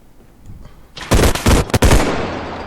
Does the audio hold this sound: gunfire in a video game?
yes